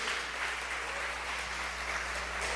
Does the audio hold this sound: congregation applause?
yes